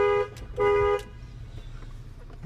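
Car horn rigged to the left turn signal, honking twice in short, loud bursts, then quiet cabin noise with the engine idling.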